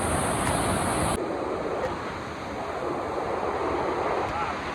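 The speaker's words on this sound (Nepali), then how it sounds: "यो माथिसम्मै जान्छ यो खोला। त्यति ठुलो त होइन तर यहाँको यो बहाव चाहिँ डेन्जर छ।" A fast, dangerous white-water mountain stream rushes over rocks, a loud continuous roar that fills the scene from close by, steady throughout with a slight shift in tone early on.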